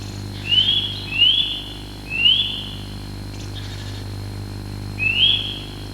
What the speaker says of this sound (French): il y a un passereau ici qui est vraiment caractéristique, qui est l'Alouette Lulu, dont le nom est une onomatopée de son chant